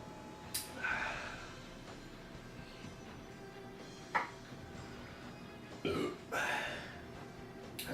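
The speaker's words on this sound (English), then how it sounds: "Makes you want to burp." A man burps after sipping cheap beer, several short throaty belches and snorts scattered across the stretch with quiet breathing between them, close to the mic.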